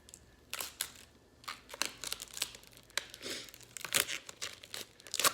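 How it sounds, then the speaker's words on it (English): Plastic protective sticker peeled from the mirror of a makeup palette, heard as a series of close, crisp crinkling and tearing rustles over about five seconds, with no talking. "let me take off the sticker on the mirror"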